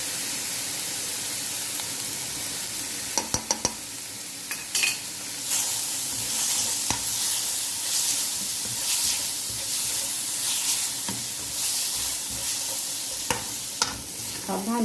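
Chicken sizzles and fries steadily in a pan with turmeric and red chili for a Patiala chicken dish, with occasional sharp stirring clatters and bursts of spattering throughout and no voices.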